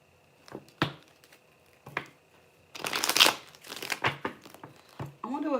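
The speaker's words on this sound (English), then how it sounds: "Let me do one more shuffle" A deck of cards is shuffled up close, with riffling bursts and soft crinkling flutters in several uneven rounds, and a voice speaks briefly near the end.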